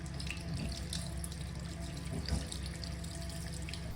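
Water runs steadily from a tap over a Xiaomi Mi Band 6 fitness watch, a continuous splashing hiss with small bursts of spatter, fairly quiet and close, with no voices.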